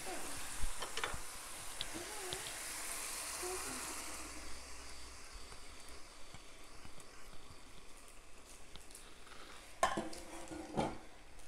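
Mashkalai dal, black gram lentils for a Chittagong-style mezbani dish, sizzles in a pan as it is added and stirred, a soft hiss fading over several seconds, with a few spoon scrapes and clinks near the end.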